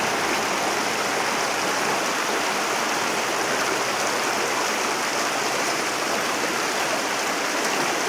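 A shallow stream at Sedlescombe flows in a steady, continuous rush of water, close and even throughout with no pauses, no talk and nothing else breaking through the constant wash of sound.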